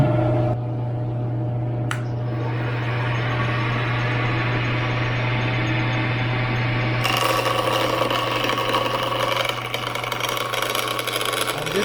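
Wood lathe spinning a handle blank for rope making, held on a bearing-mounted dead center while its sharp corners are turned off; a steady motor hum runs throughout, with a sharper, brighter cutting noise entering partway through.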